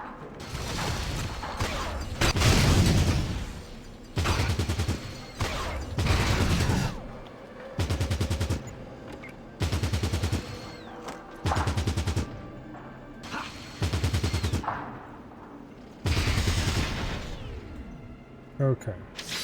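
Bursts of gunfire in Fallout Tactics: Brotherhood of Steel, loud repeated volleys of shots, some long rattling fusillades and shorter salvos, separated by brief gaps with a little mechanical clatter in between.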